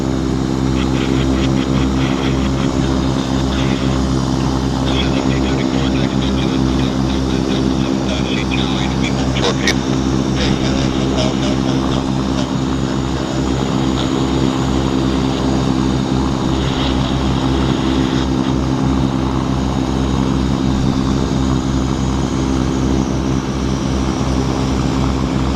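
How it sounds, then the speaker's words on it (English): A Beech 1900 turboprop taxis close by at Vancouver Airport, its loud steady propeller drone and engine hum filling the whole stretch without letup, with a voice speaking over it at times. "Quite noisy right now, so I'm just going to wait till this Beech 1900 is not here"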